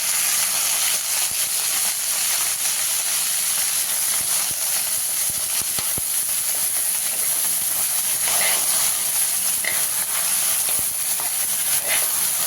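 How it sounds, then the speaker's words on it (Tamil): Okra (ladies finger) dry-roasting in an empty pan gives off a steady, even hiss that runs unbroken and fairly loud from start to finish, with no voices over it. "வெண்டைக்காவை பொறுத்த வரைக்கும் முதல்ல அந்த வெறும் சட்டியில் போட்டு இதுக்கப்புறமேட்டு தான் எண்ணெய் ஊற்றணும்"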